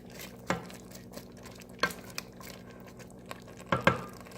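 Onion and celery are stirred in a pot for homemade chili, making a soft frying hiss broken by several distinct scraping strokes of a utensil against the pot, spaced a second or more apart.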